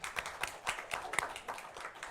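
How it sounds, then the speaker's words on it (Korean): Brief scattered clapping from a small church congregation during a Sunday service, a handful of distinct hand claps in loose rhythm, moderately close and fairly quiet, with no talk over it. "우리 박수 한번 쳐줍시다."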